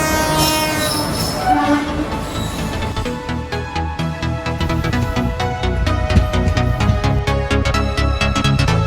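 A train rumbles past loudly with clattering wheels while a long horn blares over the steady mechanical roar.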